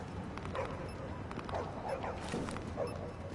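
Dogs in the video game The Division giving a few short yips and barks at moderate distance, scattered over steady background noise.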